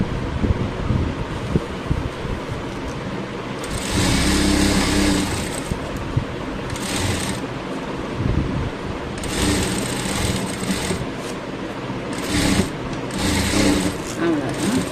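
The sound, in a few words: sewing machine stitching a blouse seam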